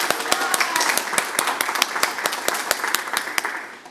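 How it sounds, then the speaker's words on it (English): Audience applause at a neighborhood leadership institute graduation ceremony, a modest crowd with distinct individual claps standing out in an uneven patter, gradually tapering toward the end. "Let's give him a round of applause"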